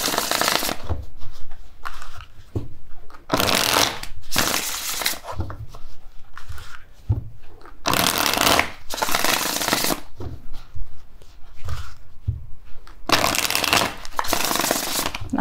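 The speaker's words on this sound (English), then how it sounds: "Shuffle." Tarot cards are shuffled close by in repeated riffling bursts with short gaps between them, loud and papery, running for the whole stretch.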